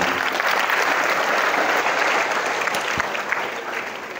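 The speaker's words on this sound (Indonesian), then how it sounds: "Tepuk tangan untuk kita semuanya hari ini." High school students at a motivational session at SMA Plus Al-Aqsha Jatinangor applaud in a thick, sustained wash of clapping that stays loud throughout and eases slightly at the end.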